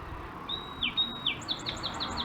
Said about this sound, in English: The birds are singing nicely here.